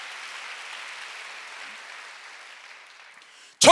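A church congregation at a Sunday worship service applauding, a soft, distant wash of clapping that fades gradually before a sudden loud burst at the very end.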